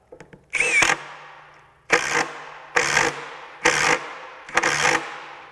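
A Metabo HPT 36V triple hammer impact wrench in single bolt mode fires five short rattling bursts separated by brief pauses, each burst stopping on its own.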